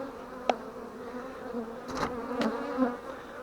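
Honeybees drone at an abandoned forest apiary, a steady close hum with single bees zipping past the ear in short louder passes.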